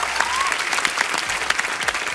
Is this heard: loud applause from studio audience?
yes